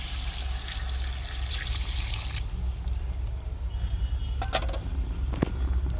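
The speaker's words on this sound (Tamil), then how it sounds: "இந்த வேட்டருக்கான தண்ணி அப்படியே ஃபுல்லாக பிடிச்சி ஊற்றிடுறேன்." Water pours in a steady, close rush into a pot of okra kara kuzhambu, ending in a few splashy gurgles and clinks, with no one talking.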